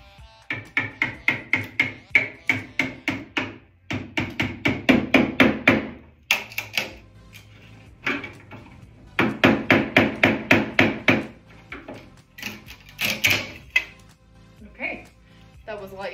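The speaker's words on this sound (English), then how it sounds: "I'm just using a hammer and a flathead. And I'm gonna attempt to remove this." Bursts of rapid hammer taps on a flathead screwdriver removing a wooden decoration from a side table, coming in quick rhythmic runs with short pauses between them, close and fairly loud.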